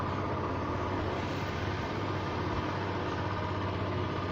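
A tractor engine runs at a steady, low idle-like drone, faint and continuous in the background, with no other sounds or voices.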